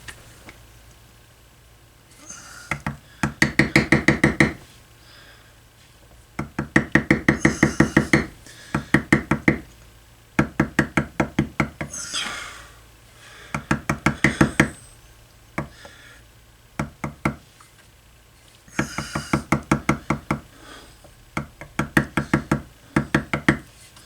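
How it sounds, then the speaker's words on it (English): A 16-ounce Odin maul strikes a bevel tool into leather while a bookmark is being tooled. The taps come close and crisp in quick, even bursts of several blows each, separated by short pauses. "I have a Odin 16-ounce maul, and that will just keep me from hitting it too hard."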